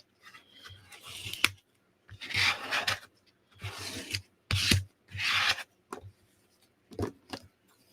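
Close-up scissors snip and rasp through wet, inked paper in several separate bursts, each ending with a sharp click of the blades.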